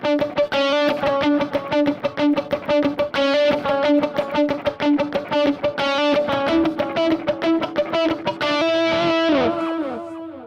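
Distorted electric guitar plays a fast, tight picked riff, broken by brighter, ringing hammered-on notes that sustain more openly toward the end.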